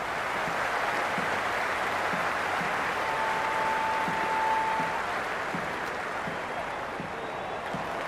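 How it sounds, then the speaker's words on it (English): Simulated stadium crowd in the cricket video game Cricket 26 during an IPL T20 match, Gujarat Titans against Mumbai Indians, a steady, even roar of cheering that fills the whole stretch. "There's an almost tangible fervour throughout the crowd at the moment."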